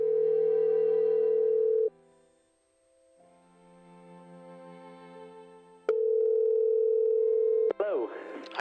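Ringback tone on an outgoing call to North Yorkshire, England: two long, loud steady tone bursts separated by a quieter pause with faint background, ending as a voice answers the line.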